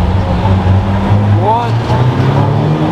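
A pink Lamborghini Aventador SV engine rumbles on a city street, a steady low drone under loud ambient traffic noise, with a brief rising whine midway.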